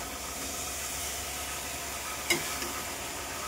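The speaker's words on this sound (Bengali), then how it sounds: "মাটনটা এখন কষাচ্ছি।" Mutton being sautéed and browned in a pan gives a steady, even sizzle throughout, broken by one brief sharper clink or scrape near the end, with no talking.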